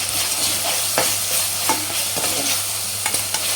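Mutton keema mixture sizzling in a pan as it is stirred, a constant bright frying hiss punctuated by periodic scraping strokes of the spatula, close up with no talk.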